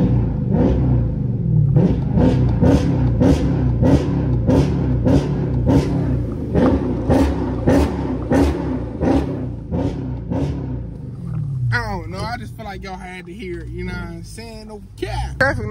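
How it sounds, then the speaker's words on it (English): A powerful engine of a Dodge SRT 392 in track mode revs repeatedly in quick, rhythmic bursts, loud and close, then a voice speaks briefly near the end. "So track mode and give it a few revs."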